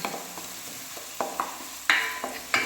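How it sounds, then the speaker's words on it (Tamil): Baby corn frying in a pan, a soft continuous sizzle broken by several spoon scrapes and light clinks in an uneven rhythm, close but moderate in level, with no talking. "நல்லா ஃப்ரை ஆகுங்க"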